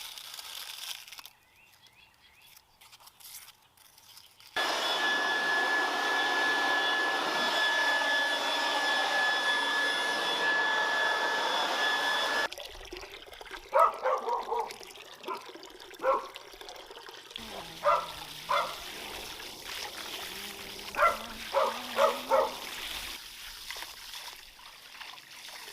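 A garden fountain starts up with a loud, steady rush of water for several seconds, then settles into uneven splashing and trickling with irregular louder spurts.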